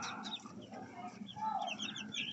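A hen clucks repeatedly in a backyard coop among her young chicks, with soft irregular clucks and chick peeps close by, no talking.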